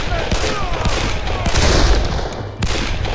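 Dense gunfire rattles nonstop during a firefight in the Darkest of Days video game, loud and close, with rapid overlapping shots throughout the short stretch.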